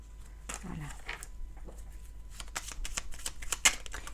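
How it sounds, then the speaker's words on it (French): A deck of tarot cards is shuffled close by in quiet, soft riffling bursts and light papery flicks. One crisp snap comes near the end. "Bon, il y en a trop, donc je vais les remélanger."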